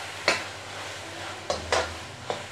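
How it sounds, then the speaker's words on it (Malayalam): Beef frying in a pan for a Kerala-style beef fry, with a low steady sizzle and a few sharp scraping stirs of a utensil against the pan, close and alone with no talk. "ഇങ്ങനെ ഇളക്കി കൊടുത്തുകൊണ്ട് തന്നെ ഫ്രൈ ചെയ്യുക."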